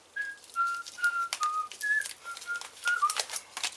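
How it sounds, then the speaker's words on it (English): Someone whistles a short, halting melody of separate held notes, fairly close and alone, while making coffee, with faint clinking and rustling in between. "Sorry, whistling's rubbish, isn't it?"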